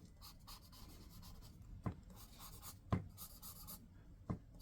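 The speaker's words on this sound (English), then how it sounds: "now we're going to draw accordingly." A soft pencil scratches across paper while a comic cover is being drawn, giving continuous close rubbing strokes broken by a few sharper taps.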